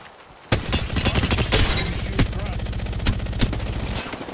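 Rapid automatic gunfire in the video game Apex Legends, bursting in loud after a quiet start and continuing in dense rattling volleys with a few sharper shots standing out.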